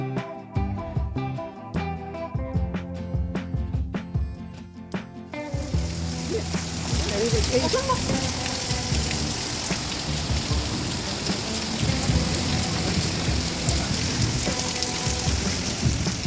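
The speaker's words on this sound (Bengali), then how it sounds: "ঝরে বৃষ্টি হচ্ছে" Heavy rain pours down during a thunderstorm with lightning around a rooftop garden, a dense steady roar that swells loud after a few seconds of quieter dripping and patter, with no talk.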